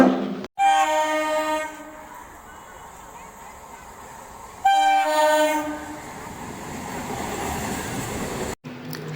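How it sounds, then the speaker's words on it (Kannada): Tirupati train pulling into a quiet railway station, with loud horn blasts at the start and again midway over the rumbling, clattering rolling stock, followed by a steady rail rumble. "ಕೊನೆಗೆ ಒಂದು ಟ್ರೈನ್ ಬಂತು ನೋಡ್ರಿ. ಅದು ತಿರುಪತಿ ಟ್ರೈನು."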